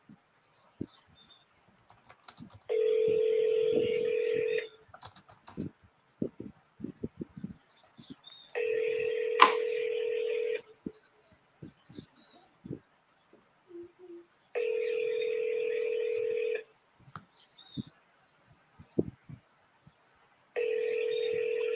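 A telephone dials out while a call is placed, with several long steady ringback tones repeating at regular intervals, separated by quiet gaps with small clicks and faint chirps.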